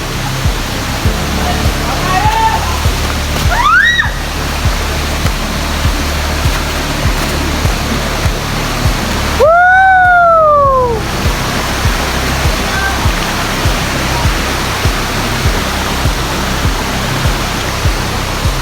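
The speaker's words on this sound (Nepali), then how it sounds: "झरना आयो झरना" A large forest waterfall roars as a dense, constant broadband rush of falling water, loud and steady throughout, with brief whistle-like voices rising over it.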